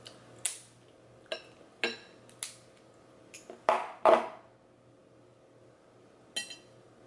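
Crab shells are cracked at a seafood gumbo meal, giving a series of sharp, close snaps and crunches at irregular intervals, with a louder double crack in the middle, against a quiet background with no speech.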